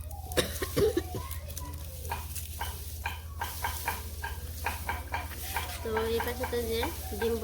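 Onion, ginger and garlic frying for an egg curry in a village kitchen, with close stirring scrapes and a continuous sizzle, and people talking over it in the background.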